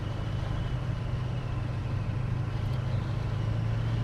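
A 1984 GMC Sierra C/K 1500 pickup with a 383 stroker engine drives along, its low engine drone steady and continuous with road noise and no talking.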